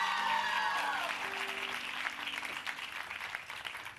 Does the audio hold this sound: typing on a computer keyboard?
no